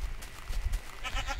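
A goat bleating in Minecraft, two or three short nasal bleats in quick succession, close and clear with no speech over them.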